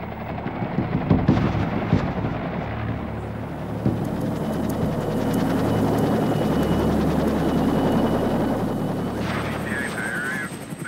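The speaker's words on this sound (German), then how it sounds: "US-Helikopter kreisen über Saigon." US military helicopters circle over Saigon during the Vietnam War, a loud, continuous rotor drone with distant bursts of gunfire, steady throughout and joined by a faint high whine near the end.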